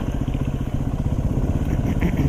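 Motorcycle engine running steadily while riding dirt trails near Fairbanks, Alaska, during wildfire season, a loud, close, pulsing mid-pitched drone with a clattery rhythmic throb throughout.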